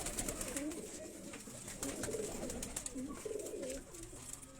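Khak sire pigeons cooing in a loft, several birds giving repeated low rolling coos close by, with brief high chirps and constant murmuring.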